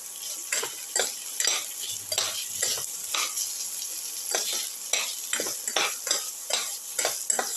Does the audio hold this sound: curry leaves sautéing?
yes